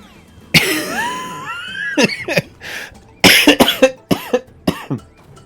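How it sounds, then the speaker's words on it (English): A person coughing repeatedly up close, a long fit followed by several sharp hacking bursts with throat clearing, no speech. "the coughing is starting to get worse"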